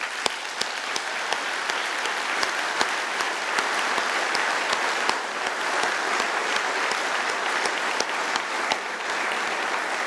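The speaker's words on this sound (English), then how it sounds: "let's give Bill just another warm round of applause" A large audience gives a warm, sustained round of applause for Bill Strickland at the close of a talk, a dense and steady wash of clapping with no voices over it.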